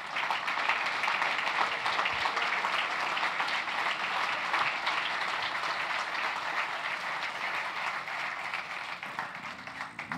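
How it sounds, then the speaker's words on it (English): Audience applause for startup finalists at the closing of a startup festival, a steady sustained wash of many hands clapping for about ten seconds with no talk over it. "These are the 10 finalists, and I think they all deserve a round of applause."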